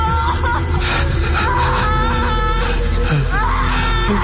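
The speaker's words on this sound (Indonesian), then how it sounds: "Namun suara tangisan perempuan itu terdengar malah semakin kencang." A woman's crying and wailing serves as a horror-story sound effect, loud and continuous, with sobbing moans rising and falling over a dense, droning backdrop.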